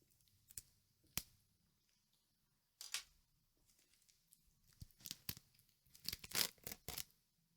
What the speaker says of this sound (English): Little bit of plastic unwrapping ASMR.